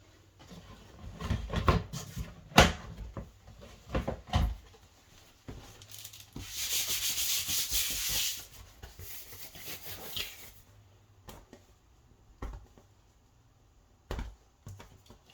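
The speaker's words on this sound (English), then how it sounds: "A utility knife works very well in taking off the burr." Quiet scattered clicks and taps, then a few seconds of dry rasping as a utility knife scrapes a burr off a drilled plastic bin, followed by more light ticks.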